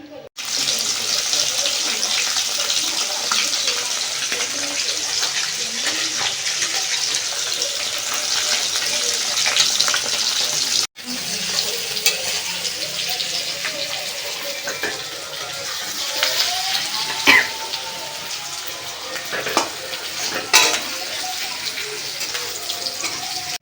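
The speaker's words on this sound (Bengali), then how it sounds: "এদিকে তেল বসিয়ে দিয়েছি কড়াইতে গরম হয়ে গেছে মাছটা ভেজে নিই" Fish frying in hot oil in a wok, a steady broadband sizzle that holds for the whole stretch with a brief break midway and occasional sharper spits and crackles.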